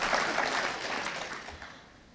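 A crowd applauds at the Skepticon 7 convention, a dense wash of clapping that is loud at first and then gradually thins and fades toward the end.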